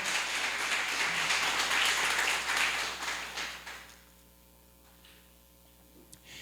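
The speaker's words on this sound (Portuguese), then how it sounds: "vamos aplaudir o Senhor Jesus, bem forte para o Rei da Glória" A church congregation applauds strongly, a steady wash of many hands clapping that fades out after a few seconds, leaving a quiet room with a low electrical hum.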